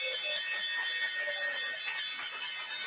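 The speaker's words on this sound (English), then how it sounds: "Let's get the opening bell here in the CNBC Real-Time Exchange" Stock exchange opening bell rings in a rapid, continuous series of bright metallic strikes, loud and steady with no talk.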